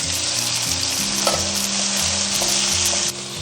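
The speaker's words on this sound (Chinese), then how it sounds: "砂锅里面我们倒入一些麻油，没有的话就用普通食用油哈。 我们先把葱姜蒜给它爆香。" Scallion, ginger and garlic frying in sesame oil inside a preheated clay pot, a steady loud sizzle with light stirring clatter running throughout, no voices.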